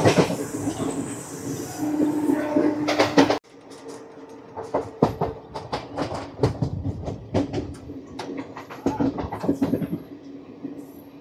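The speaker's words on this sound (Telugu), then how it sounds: "నెక్స్ట్ అయితే ఈ ట్రైన్ ఆగేది సింగాడం రైల్వే స్టేషన్లో" The Tirupati-Puri Express (17480) rolls along the rails, giving a loud, continuous rumble and then repeated rhythmic wheel clacks over the track joints, heard close and with no talk.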